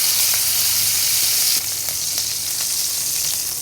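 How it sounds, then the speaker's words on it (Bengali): Green chilies frying in a pan give a steady, loud sizzle, a continuous bright hiss that drops slightly partway through, with faint clicks of stirring. "এটাও একটু ভেজে নেব ভালো করে"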